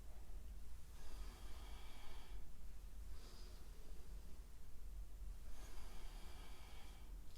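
Repeated close breaths during an exercise workout, several broadband whooshing exhales spaced a couple of seconds apart over a steady low rumble, with no talking.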